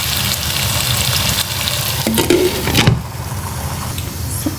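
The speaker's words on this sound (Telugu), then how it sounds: "సో గైస్ మన పొటాటోస్ అయితే ఫ్రై అయిపోయినాయి" Potatoes frying in a pan, for a palak potato masala curry, give a loud, steady sizzle that runs throughout, with a few brief stirring scrapes and clatters partway through.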